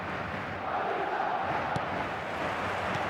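Stadium crowd in an eFootball LaLiga match, a dense continuous roar of many voices filling the space at steady loudness, with a brief sharper shout rising out of the din.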